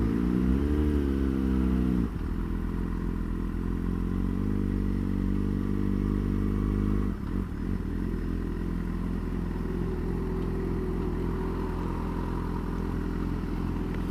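A Yamaha FZ6 600 motorcycle, a 2021 FZ6 Night Rider custom, runs with a loud, steady engine note close by, shifting pitch as it revs and pulls away from the clutch, with no talking.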